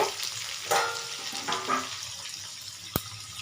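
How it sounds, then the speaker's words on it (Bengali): Onion fries in hot oil with cinnamon, cardamom, cloves and cumin in a pan for chicken kofta pulao, a steady close sizzle broken by several scraping, clinking stirs and one sharp knock of the spoon. "পেঁয়াজটা একটু ভালো করে নাড়াচাড়া করে নেব একটু গোল্ডেন কালার আসবে সেইভাবে ভাজবো"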